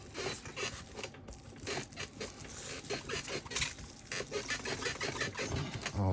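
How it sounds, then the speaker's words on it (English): A squeaky table creaks faintly as polymer clay is pressed and pushed down on it. Repeated short scraping squeaks fall close together over a soft background, with no talking. "Oh, this squeaky table."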